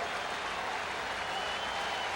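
Steady applause and cheering from a baseball stadium crowd at a 1983 Yankees Fourth of July game, a dense, even wash of clapping heard from a distance without a break.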